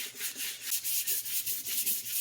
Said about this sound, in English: we're finishing sanding down the back smooth